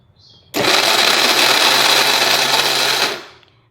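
Mixer grinder whirring loudly as it grinds sesame seeds with palm jaggery, a steady high-pitched motor roar starting abruptly, holding for about two and a half seconds, then winding down, close and alone.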